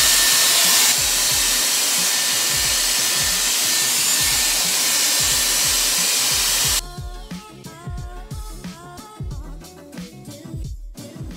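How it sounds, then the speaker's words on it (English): Dyson Airwrap volume brush blowing air as a loud steady whoosh for most of the clip, then dropping abruptly to a lower, rougher airflow with brush rustling near the end. "it's really cool because it blows air and it's not like heat"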